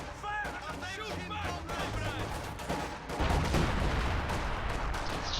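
Rapid bursts of gunfire and artillery in a real-time strategy war game, crackling volleys mixed under game voices shouting commands, swelling into a denser, louder barrage near the end.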